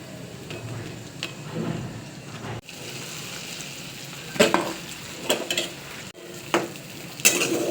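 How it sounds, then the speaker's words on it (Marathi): Sabudana khichdi with potato, cumin and chili powder being stirred in a kadhai with oil: a soft continuous sizzle and a rain-like hiss under repeated metallic scrapes and clanks of a spoon against the pan, nearby. "हे असं छानपैकी सगळं हलवून घ्यायचं"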